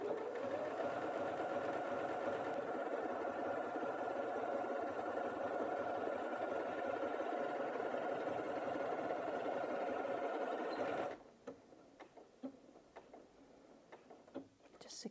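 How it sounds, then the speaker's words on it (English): A Janome 8200QCP sewing machine runs steadily and loudly for about eleven seconds while stitching forward and back to lock the seam, then stops, leaving quiet handling clicks. "when you reverse on this one, it will do a locking stitch for you as standard"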